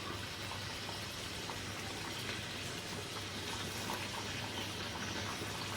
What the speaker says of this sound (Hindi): इसमें आपको ऑयल की आवाज़ आ रही होगी क्योंकि ये भुनना शुरू हो चुका है